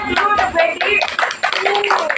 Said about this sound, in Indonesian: Tepuk tangan untuk Bu Wendy.